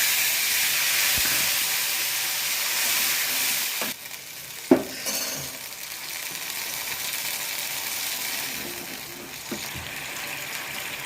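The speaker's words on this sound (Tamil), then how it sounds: "புளி ஊற்றிக்கிறேன்." Tamarind water goes into a pan of frying chillies, setting off a loud, steady steaming hiss, then a clunk and softer stirring sizzle as it settles.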